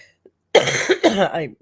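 A single throaty cough followed by a short rasping throat-clearing sound, close up and fairly loud, after a brief quiet moment.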